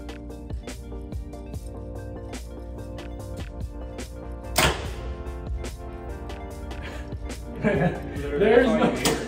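Arrows shot from a 2022 Mathews V3X 33 bow strike a target, several sharp thwacks at uneven intervals, with a person talking and background music throughout.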